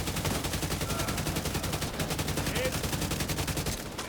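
Rapid automatic gunfire rattles in a video game in a fast, sustained stream of closely spaced shots at steady loudness, tapering slightly at the end.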